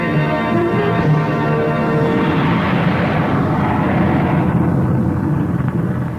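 A jet airliner roars steadily and loudly in a 1960 American Airlines radio advertisement, a broad continuous rush of engine noise with no pauses and no talking.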